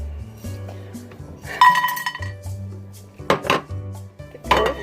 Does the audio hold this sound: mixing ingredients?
yes